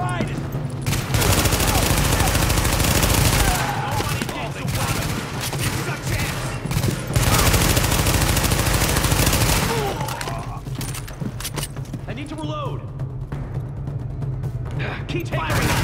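Sustained automatic gunfire in the shooter game The Division, dense overlapping bursts of rifle and machine-gun fire with booming impacts, loud and nearly continuous, with players shouting over the shooting.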